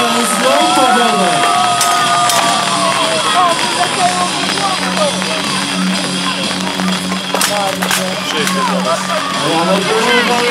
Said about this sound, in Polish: większe oklaski są wymagane